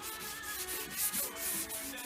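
Fibreglass being sanded by hand with 180 grit sandpaper while prepping a panel for primer and paint: a continuous close, scratchy rubbing with a steady back-and-forth texture and no voices.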